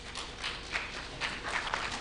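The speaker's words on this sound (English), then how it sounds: "A round of applause for him." Audience applause at a pension fund's annual general meeting, a soft, steady patter of scattered hand claps from a modest crowd, fairly distant and low in level.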